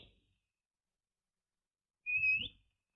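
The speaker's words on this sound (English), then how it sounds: "Don't do you no good to whistle." A man whistles a single short, rising note, heard alone after a stretch of near silence, close and fairly clear.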